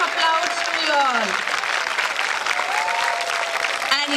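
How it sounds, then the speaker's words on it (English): Audience applause at a school prize distribution ceremony, a strong continuous round of clapping from a large crowd, with an amplified voice speaking over it. "a big round of applause to you all"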